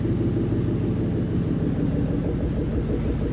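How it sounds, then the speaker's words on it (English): A 2014 Ford Mustang GT convertible with a Roush exhaust and BBK intake idles with a deep, steady low rumble, its burbling chug continuous and fairly loud throughout, with no talking. "Listen to that chug from the back, man."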